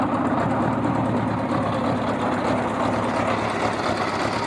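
A 1986 Honda Goldwing GL1200 SE-I motorcycle engine held at about 4,000 RPM, a steady, dense mechanical drone with low rumble and even hum, close and continuous with no pauses and no talk.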